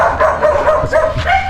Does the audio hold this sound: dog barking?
yes